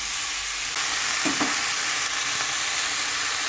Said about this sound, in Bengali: সবজিটাকে বেশ ভালো করে নেড়ে ঢাকা দিয়ে দেবো